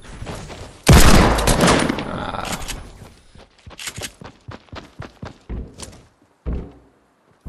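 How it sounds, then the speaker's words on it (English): Hand cannon gunshots in a video game, a loud opening blast followed by a run of sharper shots and thuds fired in irregular bursts, with no voices over them. "No scope hand cannon."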